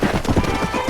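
Horse hooves clip-clopping in Red Dead Redemption, a quick, close, loud run of rhythmic hoofbeats over less than a second.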